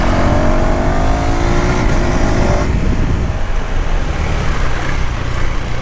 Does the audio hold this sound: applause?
no